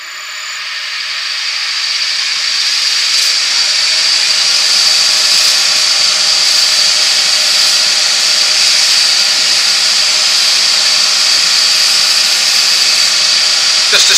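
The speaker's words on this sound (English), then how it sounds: "use our bowl sander" Bowl sander fitted with a 120 grit pad smoothing the end of a wooden bottle stopper on a woodturning lathe, a steady loud whirring hiss held without a break from start to finish, no talk.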